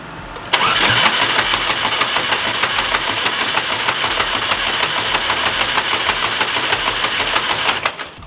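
The engine of a DF Goblin 488 kit car cranks and fires on its very first start, then settles into a loud, steady, near running drone with a rhythmic pulse for several seconds before cutting off.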